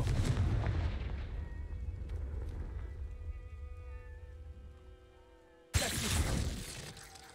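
A Confringo fire spell explodes in the video game Hogwarts Legacy: a loud, crackling burst with a sharp renewed blast near the end, layered over game ambience and low rumble.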